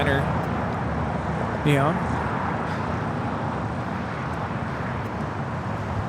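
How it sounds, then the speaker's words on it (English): An All Nippon Airways Boeing 787-9 Dreamliner arriving at LAX from Tokyo Haneda gives a steady, broad jet roar that holds through the whole stretch, with a brief spoken word cutting in partway through. "This is All Nippon Airways Flight 126 coming in from Tokyo, Haneda on the 787-9 Dreamliner."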